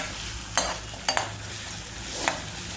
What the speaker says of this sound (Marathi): कांदा मिरची चांगली फ्राय करून घ्यायची आहे.